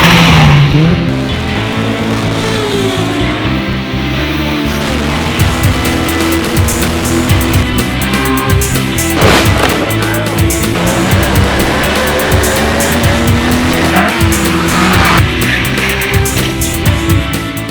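Saloon race car at the Wiscombe Park hill climb in Devon, its engine roaring loud and steady throughout, climbing and falling in pitch through gear changes with no talk over it.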